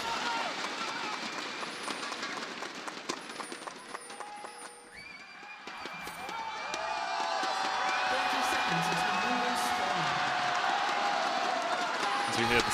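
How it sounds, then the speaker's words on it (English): Arena crowd of esports fans in Chengdu cheering at a League of Legends MSI 2024 match between G2 and T1, a roar that dips then swells into a sustained loud wall of cheers and shouts, with talk over it. "As we hear the support from the fans in the crowd"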